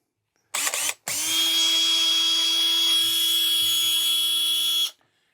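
A Makita cordless drill with epoxy-gummed speed control whirs up after a short false start, running at one steady high-pitched whine for about four seconds before cutting off, close and loud with no talk.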